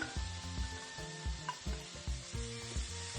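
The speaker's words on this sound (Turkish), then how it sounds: "Kıyma, soğan ve biberler kavruldu" Minced meat, onions and peppers frying in a pan, a steady close sizzle broken by repeated scraping and stirring strokes that come in a loose rhythm, with no talking.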